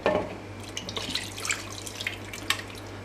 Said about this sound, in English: add a bit of water.